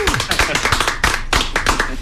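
Small group clapping for cricketer Graeme Smith during a chat show, a few seconds of sharp, close, uneven hand claps with distinct individual strikes.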